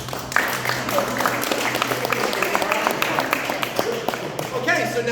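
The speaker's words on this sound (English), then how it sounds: "Apparently you guys applauded for a nail." A live magic show audience claps and applauds steadily for several seconds, a dense spread of hand claps with crowd noise and voices mixed in underneath.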